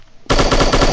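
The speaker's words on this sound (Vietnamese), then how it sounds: "Đây là mình đang thử bắn xuyên tường các bạn nhé" A loud, continuous burst of automatic gunfire fired at a wall in the game Striker, starting abruptly after a brief quiet moment and hammering on rapidly to the end.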